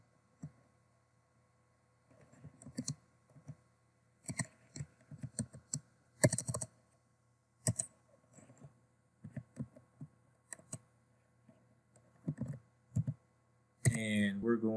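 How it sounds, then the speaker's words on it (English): Someone types on a computer keyboard while entering a service name in the AWS console, producing scattered bursts of close, crisp key clicks with pauses between them and a brief louder rattle near the end. "you're going to type in EC2"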